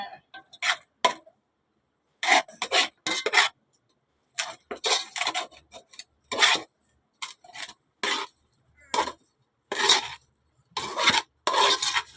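Cooked rice being stirred into a pan of softened fried tomato mixture for tomato rice, giving repeated close scraping, rasping strokes in short bursts separated by brief pauses.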